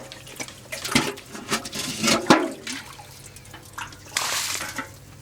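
Water trickles and splashes into a well during cleaning, with irregular drips, sloshes and brief gurgles at close range.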